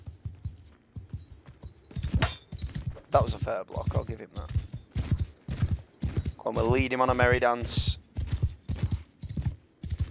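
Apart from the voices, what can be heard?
horse hooves galloping in video game Mount and Blade Bannerlord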